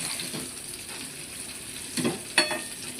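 Surmai fish fries in a pan with a constant close sizzle and a couple of brief louder spatters near the end, no voices.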